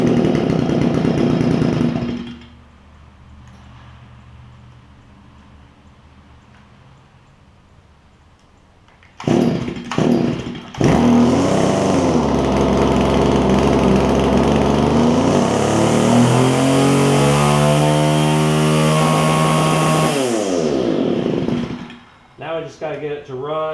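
A Stihl FS45 string trimmer with a newly replaced carburetor, running rich and bogging down, idles roughly, then revs up loud and close with rising and falling engine pitch before cutting back, while someone speaks over it.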